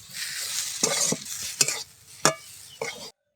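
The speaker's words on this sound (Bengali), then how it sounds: "মশলাটা ভালো করে মিশিয়ে নেব" A spoon stirs spiced potato filling for crispy aloo patties in a hot pan, giving a steady sizzle broken by four scraping knocks against the metal before it cuts off.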